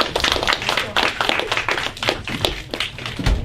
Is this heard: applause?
yes